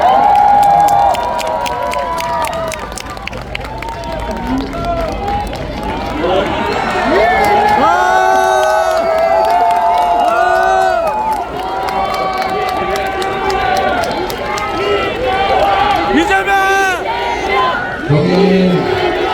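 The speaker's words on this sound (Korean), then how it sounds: "박수 맞아주십시오" A dense crowd at a political rally at Dongdaegu Station in Daegu, with a politician, roars, cheers and chants loudly and continuously, with raised voices swelling and surging throughout.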